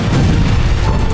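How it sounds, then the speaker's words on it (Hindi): A loud, dense, rumbling blast from an explosion after an Israeli military strike, heavy in the low end with no pauses. "IDF के इन उपकरणों से हमले के बाद धमाका और उसके बाद आग की लपटें"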